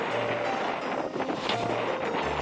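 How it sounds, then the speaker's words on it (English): Steady wind rushing past a sailboat under way on open sea along the Great Australian Bight, a constant broadband roar with buffeting microphone gusts and faint water wash beneath. "Finally, a good wind for the last day or so"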